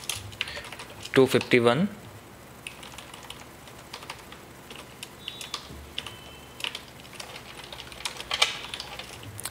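Fast clicking taps sound on a computer keyboard, with a quick burst of keystrokes followed by scattered lighter clicks, while someone speaks over the typing at times.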